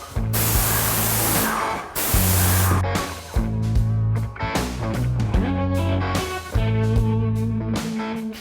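Paint sprayer hissing as it coats wood panel walls, repeated loud bursts of spray lasting a second or two each, separated by short pauses with a low mechanical hum from the sprayer's pump.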